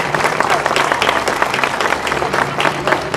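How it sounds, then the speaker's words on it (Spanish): Crowd applauding Juan at a gathering in Magdalena, dense steady clapping mixed with cheering voices and loud chatter throughout. "la verdad que se merece un aplauso,"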